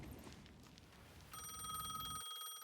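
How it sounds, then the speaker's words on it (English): A payphone in the video game Alan Wake 2 rings with a steady electronic trill that begins partway through, heard faintly over a low ambient rumble. "The payphone was ringing again."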